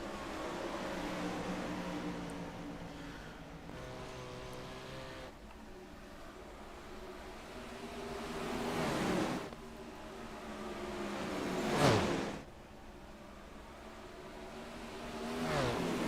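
Sprint cars racing in a feature at Eldora in a racing video game: engines drone and rev steadily, swelling as cars pass close by with a sharp roar near the end, and no talk over them.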